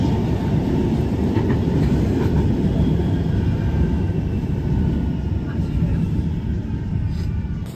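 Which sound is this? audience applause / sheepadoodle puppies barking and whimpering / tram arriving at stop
tram arriving at stop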